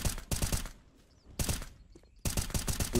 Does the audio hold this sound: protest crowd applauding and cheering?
no